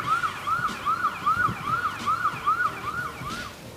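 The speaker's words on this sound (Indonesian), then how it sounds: "Dengan sirine yang udah mengaung-ngaung, ia diberikan jalan seluas-luasnya oleh pengendara lainnya." Emergency vehicle on a German road, its siren wailing in quick rising-falling sweeps that repeat steadily, moderately close amid the hum of surrounding traffic.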